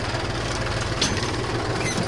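A tractor engine hauling a trolley runs continuously with a steady low rumble and rough, knocking texture close by, with no talk over it.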